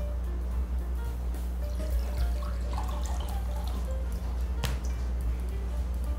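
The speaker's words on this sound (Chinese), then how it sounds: "把盐水倒出来" Salt brine is poured off a plate of softened pickled vegetables, giving a soft, close trickle and dripping of liquid over a steady low kitchen hum.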